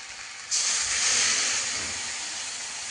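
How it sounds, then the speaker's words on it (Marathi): A sudden loud hiss bursts in and holds steady, then slowly eases off, as water is poured into a hot pan of spiced okra and sizzles. "थोडंसं पाणी टाकणार आहे"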